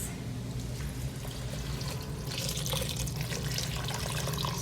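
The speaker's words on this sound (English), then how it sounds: "I will be adding the broth." Broth pours steadily into a pot for pistachio-saffron soup, a continuous close splashing rush of liquid that swells slightly partway through.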